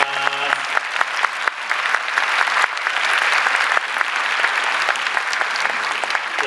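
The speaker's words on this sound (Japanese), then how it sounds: "大きな拍手お願いします" An audience applauds the Bluestars cheerleaders at a stage event for Gunma sports, with steady, dense clapping throughout, a brief voice at the start and a faint swell in the middle.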